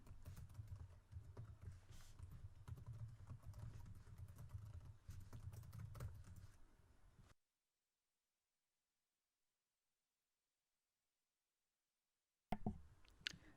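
Steady, brisk computer keyboard typing as card details are entered, close and continuous for several seconds, then silence before a short burst of clicks returns.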